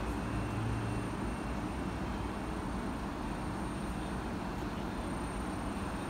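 Keikyu trains running through Samezu station, heard as a faint, continuous broadband rumble of rail noise, steady throughout without distinct breaks.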